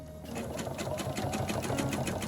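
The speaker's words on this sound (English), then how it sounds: "I start sewing again right at the very edge, sewing a 3/8 inch seam" Sewing machine stitching binding onto the edge of a quilt, a steady, fast mechanical whirring and ticking that runs close and continuous throughout, with no talk.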